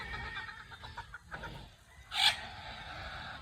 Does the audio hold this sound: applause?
no